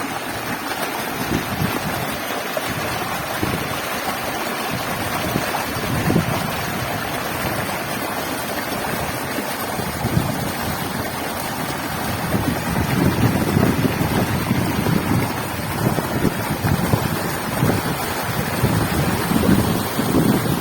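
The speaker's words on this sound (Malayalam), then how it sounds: "ഇവിടെ നല്ലൊരു വെള്ളച്ചാട്ടം പോലെ വെള്ളം വരുന്നത്, നമുക്ക് കുറച്ച് നേരം അത് കാണാം." Water rushes down like a waterfall, a steady broadband roar that swells louder toward the end, with wind buffeting the microphone.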